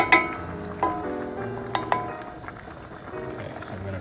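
Short rib sauce for braised pappardelle bubbling and reducing in a pan, a steady low sizzle with a few sharp clinks of a utensil against the pan near the start and middle.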